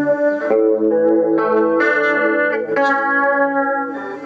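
Electric guitar played clean through a chorus pedal with no distortion, shimmering sustained chords changing every second or so, loud and close with a wide, swirling tone.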